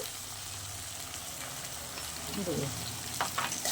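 Spices with turmeric and chilli powder sauté in a pan, giving a faint, steady frying hiss, with a brief voice and a few stirring sounds near the end.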